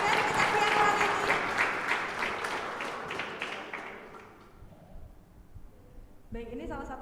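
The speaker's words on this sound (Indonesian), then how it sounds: "Beri tepuk tangan yang meriah band kita siang kali ini." An audience at a school event in Palembang applauds the high school band with loud, dense clapping that gradually fades away, followed by a person speaking.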